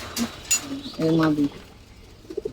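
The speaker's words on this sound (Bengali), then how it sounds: "কবুতর দুইটা ছাড়েন" Pigeons coo in a loft holding large-sized silver pigeons, a few low throaty calls close by, the longest near the middle, with people talking around them.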